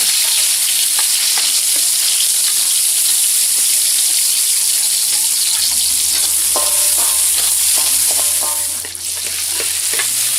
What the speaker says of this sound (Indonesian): bawang, lombok digoreng